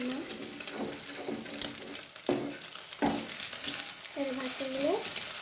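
An egg being fried in a pan gives a steady, close sizzle throughout, with clattering stirs and a few sharp knocks, and short bits of voice mixed in.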